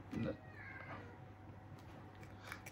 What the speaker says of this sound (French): Désolé pour le chat que vous entendez en même temps.